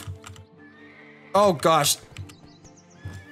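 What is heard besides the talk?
horse neighing and hooves while taming in Black Desert Mobile video game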